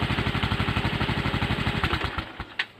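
Motorcycle engine idling close by with a steady, fast low-pitched putter that fades and sputters near the end, with faint voices around it.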